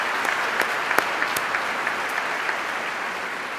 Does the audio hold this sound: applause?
yes